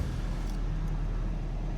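A car engine with an exhaust cutout, a brief, steady, deep low rumble close by, idling without voices.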